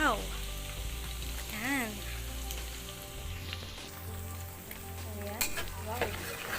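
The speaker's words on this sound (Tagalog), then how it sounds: "ilalagay na natin yung chinap natin na sili kanina" Chopped chili sizzles and crackles as it fries in hot garlic oil, stirred with a spoon scraping the pan, under a few brief exclamations from a voice.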